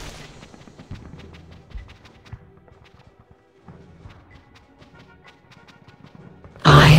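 A weapon firing in the Nintendo 64 game Conker's Bad Fur Day: a repeated series of sharp, fairly faint shots in uneven bursts beneath game noise, followed by a loud noisy blast at the end.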